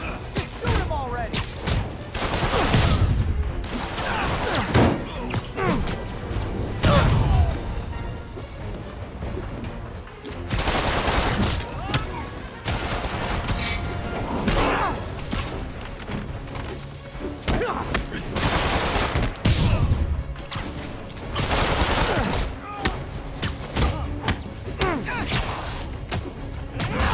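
Gunfire from enemies in the Marvel's Spider-Man video game: repeated bursts of shots and impacts in clusters amid crashes and thuds, loud and close, with voices talking between volleys.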